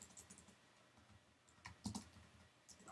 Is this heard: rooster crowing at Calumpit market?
no